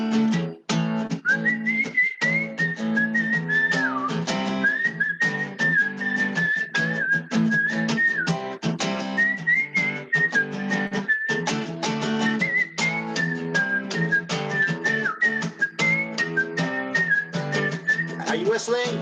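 An audience whistles a tune together over steady music at a Sunday gathering. The shrill whistled melody runs continuously and loudly for the whole stretch.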